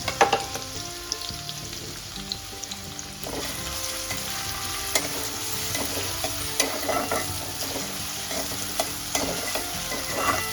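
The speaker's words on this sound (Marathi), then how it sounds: "आता आपण याच्यात कांदा भाजून घ्यायचा मी एक कांदा घेतला बारीक चिरून आणि सात आठ लसूण टाकल्या" Finely chopped onion and garlic frying in a pan, with a steady close sizzle and intermittent stirring scrapes and taps, moderately quiet and without speech.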